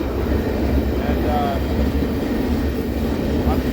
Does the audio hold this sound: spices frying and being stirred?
no